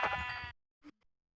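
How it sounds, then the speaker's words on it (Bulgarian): A sheep in a video game lets out a single clear, close bleat, followed by brief faint clicks and near silence. "Ало, овцичка!"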